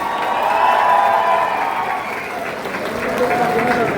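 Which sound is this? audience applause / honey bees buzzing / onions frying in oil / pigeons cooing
audience applause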